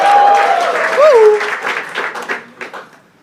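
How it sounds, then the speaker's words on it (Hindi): A talent-show audience bursts into loud applause, with a whooping voice over the clapping at first. The clapping then thins into scattered claps that fade toward the end. "एक बार जोरदार तालियां"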